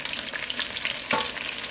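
Oyster-mushroom vegan fish cakes frying in a pan, a continuous close crackling sizzle of hot oil with a brief stir or shift of the pan midway.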